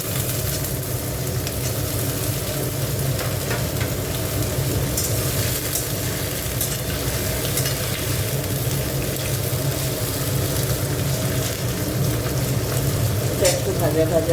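Potatoes frying in a pan hiss in a dense, even sizzle that holds steady at close range, with light stirring clatter and no talk.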